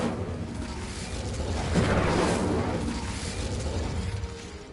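An Incendio fire spell cast in Hogwarts Legacy: a soft whooshing, crackling burst that swells and then fades away, fairly quiet, with no voices.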